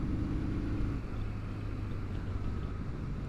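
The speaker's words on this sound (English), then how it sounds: "This feels like a classic motorcycle. There's buzzing all over the place." A Kawasaki W800 motorcycle engine drones steadily while riding, a low rumbling hum with a buzzing edge, constant and close throughout.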